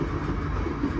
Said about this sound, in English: westbound Canadian National intermodal train.